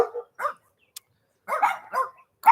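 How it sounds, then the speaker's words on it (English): Several dogs bark in short, sharp bursts close by, with brief pauses between the barks. "But I will try as much as possible to minimize the noise of these dogs."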